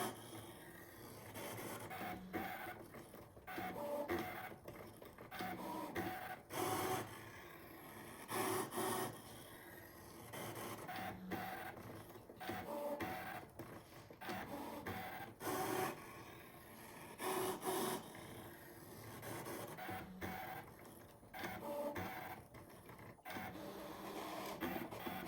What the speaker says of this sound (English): And now it's cutting. And yes, it'll even cut the little tiny rivet holes that are on the pattern.